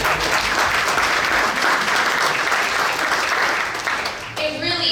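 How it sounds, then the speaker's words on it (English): Sustained applause from a crowd at a conservative business gathering, steady and full throughout, thinning slightly near the end as a voice begins to speak. "So I'm going to applaud you."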